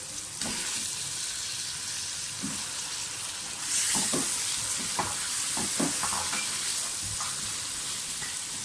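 Mutton for palak gosht fries in a hot pan with a steady, close sizzle. The hiss swells as the meat goes in, with scattered scraping stir sounds and no voices.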